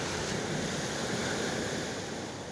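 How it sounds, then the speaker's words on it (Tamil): Sea waves wash in and pull back along a shore, a steady broadband rush with no distinct breaks, heard fairly close with some wind buffeting the microphone. "இந்த கடல் அலைய பாருங்கள், தண்ணி எப்படி முன்னாடி வருது, திருப்பி பின்னாடி போகுது பாருங்கள்."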